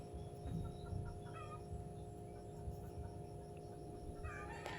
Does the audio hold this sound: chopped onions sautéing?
no